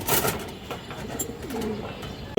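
A female pigeon coos softly in low, rolling pulses amid faint background noise, heard close with no talking over it, among fancy breeds such as khaki, silver and high-flyer pigeons.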